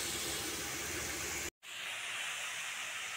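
Grated radish fries in a covered pan, giving a steady loud sizzling hiss that cuts out briefly, then returns softer and thinner, a gentler sizzle carrying on to the end.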